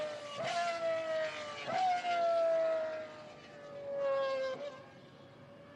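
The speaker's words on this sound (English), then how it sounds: "that is the sound of a Pagani at speed" A Pagani hypercar at speed passing by a bridge on the Laguna Seca racetrack during a historic motorsport reunion, a high engine note rising and falling as it sweeps through, moderately distant.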